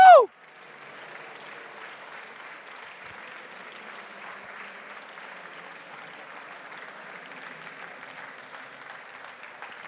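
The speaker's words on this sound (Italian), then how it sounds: "Grande applauso, team numeroso." After a brief loud vocal whoop, a hackathon awards audience on a main stage claps steadily for the winning team, the applause soft and distant but continuous throughout.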